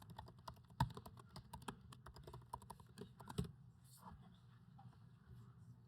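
Rapid clicking of keys on a computer keyboard during a lecture, a run of irregular taps with a few harder keystrokes, then quieter room tone.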